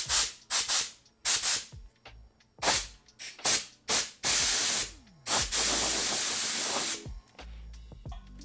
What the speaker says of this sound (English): I have the air compressor just set to 60 PSI, so let's give it a try